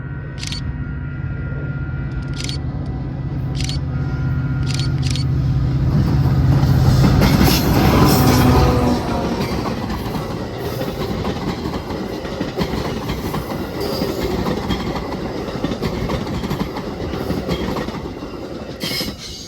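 A Metro commuter train rumbles past close by, building to a loud roar with rattling wheels and metallic clatter, then a steady rolling rush as cars go by.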